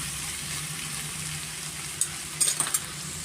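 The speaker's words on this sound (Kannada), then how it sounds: "ಸ್ವಲ್ಪ ನಾವು ಟೊಮೆಟೊ ಸಾಫ್ಟ್ ಆಗೋರೆಗೂ ಸ್ವಲ್ಪ ನಾವು ಫ್ರೈ ಮಾಡ್ಕೊಳ್ಳೋಣ" Tomatoes with salt fry in a pan for butter paneer masala, a faint steady sizzle with a few soft clinks of stirring near the end.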